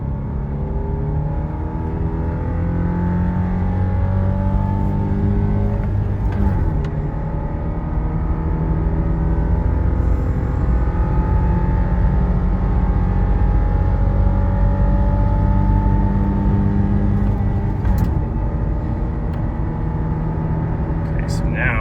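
A Subaru Forester with suspected wheel bearing and ball joint wear accelerating on the road, a steady, loud engine and road drone with rising harmonic tones running continuously, a few faint clicks over the top.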